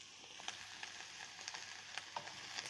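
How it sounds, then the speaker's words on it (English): Onions and peppers sizzle softly in a pan for a veggie chilli, a faint, even frying hiss with small regular pops and utensil taps scattered through it. "Put them in, and already you can hear that sizzling"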